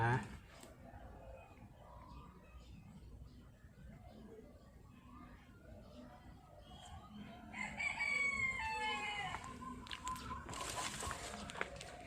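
A rooster crows loudly twice among clucking chickens on a farm in the Thung Na Mon fields of Pathum Thani, Thailand, over quiet rural background sound, with voices heard faintly in the background.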